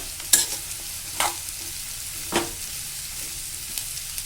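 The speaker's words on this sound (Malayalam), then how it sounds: "ഇനി കോളിഫ്ലവർ ഇടാം." Cauliflower pieces go into a pan of frying onions and are stirred, three or four distinct scraping swishes of the spoon over a low sizzle, close and without speech.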